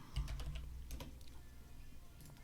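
Quick bursts of typing on a computer keyboard, close and fairly quiet, with irregular clusters of keystrokes and brief pauses and no talking.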